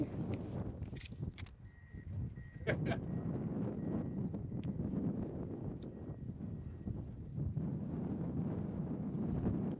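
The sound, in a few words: wind blowing outdoors on the microphone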